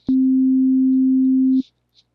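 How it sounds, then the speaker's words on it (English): A synthesizer's sine wave oscillator plays the note C3 as one clean, steady low tone of about a second and a half, heard alone with no other sounds. "when we just have a sine wave, it produces a low tone. So I'm going to play C3."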